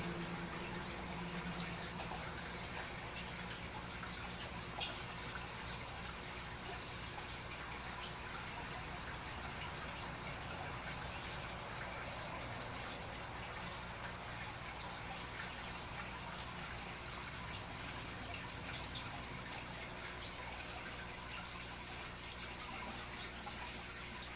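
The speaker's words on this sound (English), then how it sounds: "we're just going to pour it in" Liquid hydroponic nutrients pour steadily into a water reservoir, a continuous soft splashing trickle that holds at an even level throughout, with no voices.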